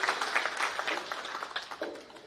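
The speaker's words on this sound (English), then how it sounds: "Clap for that." Audience clapping at a Graduate Engineers Association event, a brief burst of scattered hands heard at moderate distance, fairly faint and short.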